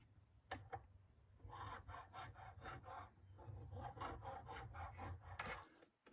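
A file rasps across the nut of a fiddle, taking off an edge to lower it, in a run of short, quiet back-and-forth strokes close up, with a few sharper scrapes near the end.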